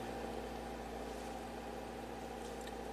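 A 2012 Kia Forte in limp mode idles high at about 1,700 RPM, giving a steady, continuous engine drone with a constant low hum and mild vibration, close and unbroken throughout with no talking.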